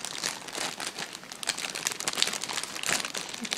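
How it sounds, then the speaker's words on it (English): Plastic bag with Christmas print, crinkled and crumpled steadily up close in a quiet room, a continuous dense crackle with small bursts and no talking. "It's a plastic bag"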